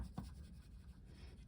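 Oil pastel rubbed across paper while colouring a planet, a soft continuous scratchy scraping heard up close and alone.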